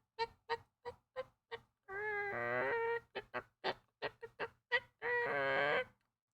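A person's voice imitates a hen calling its chicks, giving a series of short, sharp clucks broken by two longer drawn-out warbling calls, close and clear with no other sounds.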